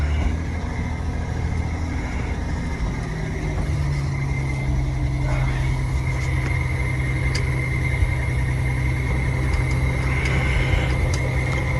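An old, rusty Ford truck drives with a steady engine rumble and road noise, plus a thin, continuous high squeal running throughout at moderate level.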